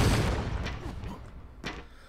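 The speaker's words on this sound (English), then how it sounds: "the multiple explosions spreading outwards will throw the shields and hit the mook themselves" Bomb explosions from the action game Broforce, set off by the Demolition Bro character: a loud burst of blasts at the start, fading rumble, then another sharp boom near the end.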